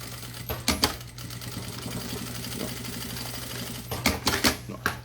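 Sewing machine stitching a double pencil case made from milk cartons, a rapid mechanical whirring hum with sharper bursts of stitching near the start and the end, close and fairly quiet.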